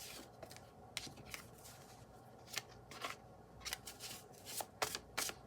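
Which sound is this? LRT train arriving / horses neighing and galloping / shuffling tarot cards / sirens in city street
shuffling tarot cards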